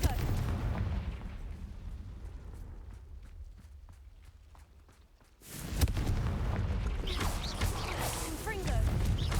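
Blasting-spell explosions from the fantasy video game Hogwarts Legacy, a sudden loud burst that gives way to a dense rumbling roar, preceded by a quieter passage of rhythmic thuds; people talk in the background.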